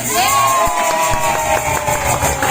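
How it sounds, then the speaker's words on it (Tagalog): A loud crowd cheering and shouting together at a baby's party with a Jollibee mascot, children's voices rising above the roar and some clapping mixed in, continuous throughout. "Ini ang malakas yung palakpakan."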